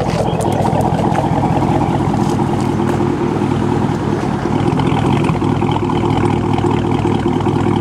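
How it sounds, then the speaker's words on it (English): Camaro engine idling, a steady, loud low rumble held close and constant with a slightly uneven pulse, with no talk over it. "Oh, you can hear it idling now. It starts idling funny."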